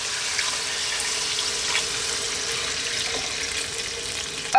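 Water pours steadily into a pot of mutton stew being cooked for lamb biryani, a continuous hissing, splashing rush that stays even and close for several seconds with no talking.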